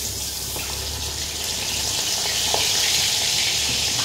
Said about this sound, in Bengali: তো এখন বাকিগুলো একটু ভেজে নিই।